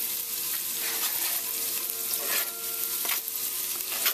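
Garlic and aromatics fry in oil for a Vietnamese chicken curry, a steady, bright, close sizzle that crackles on without pause, with faint stirring and no voices.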